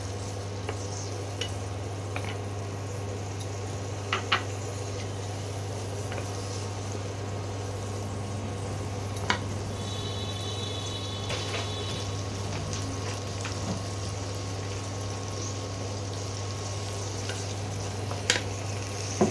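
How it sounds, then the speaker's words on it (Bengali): Chopped tomatoes sizzle in butter in a pan, a continuous moderate frying hiss with occasional stirring clicks and faint taps over a steady low hum. "একটু টমেটোটা ভাজা ভাজা হোক"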